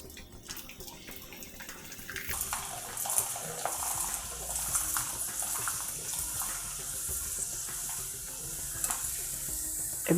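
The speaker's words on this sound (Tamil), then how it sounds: "வடாலாம் நல்லா எண்ணெய் காஞ்சதுக்கப்புறமா பொரிச்சேன்னா தான் நல்லா வீசி பொரியும்." Vadam crisps (omapodi and katta vadam) fry in hot oil with a continuous loud sizzling crackle that swells after a quieter start and holds steady throughout, with no talking.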